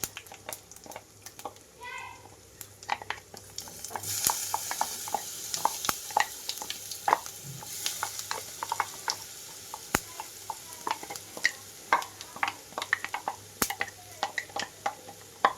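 Ground garlic paste sizzles in hot tempering oil for a spicy garlic rasam, a soft continuous crackle under frequent sharp clicks of stirring against the pan, close by, with a voice talking briefly early on.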